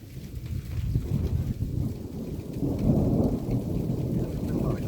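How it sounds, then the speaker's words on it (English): Thunder rumbles low and heavy through a thunderstorm over Wewoka, Oklahoma, building to a louder roll midway, with steady rain falling on surfaces throughout. "I'm debating if that was a lightning strike or just a flash"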